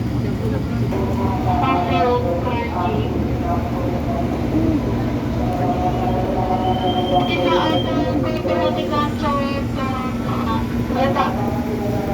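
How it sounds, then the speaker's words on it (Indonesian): Trains at the large, newly rebuilt Bekasi railway station, with a steady low rumble of rail traffic and rolling wagons, occasional brief squeals and clanks, and people talking in the background throughout. "ini adalah stasiun Bekasi yang besar atau yang lama, tapi dengan bangunan baru dan megah"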